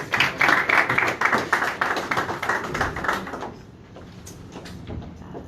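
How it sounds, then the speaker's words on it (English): Audience applause for Cinder at the SPENN product launch, a dense burst of many hands clapping at moderate distance that fades out over a few seconds. "maybe we can give Cinder a little bit of a round of applause"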